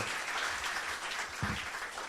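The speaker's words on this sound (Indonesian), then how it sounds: "boleh tepuk tangan dulu" An audience applauding at a talk, a steady patter of clapping from a crowd, somewhat distant and quiet, with a brief low thump partway through.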